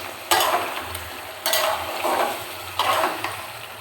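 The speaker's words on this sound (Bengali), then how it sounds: "এবার ভালো করে কষিয়ে নেব।" Curry masala sautéing in a pan, with repeated bursts of sizzling and scraping as the spoon stirs, about three strokes close up over a steady low fry and no talk.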